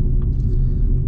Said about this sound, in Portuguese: Eita, pega buraqueira. Buraqueira aqui, essa rua.